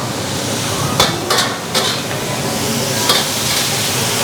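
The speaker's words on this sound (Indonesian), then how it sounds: "Jadi tinggal kita tumis dengan api besar." Seasoned bean sprouts stir-fried in hot oil over high heat, a loud continuous sizzle close by, with a few sharp scraping clatters of a utensil against the pan at irregular intervals.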